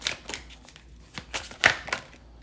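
Tarot cards are shuffled and pulled by hand, with a few quick riffling bursts and soft flicks, close and fairly crisp, with no talking.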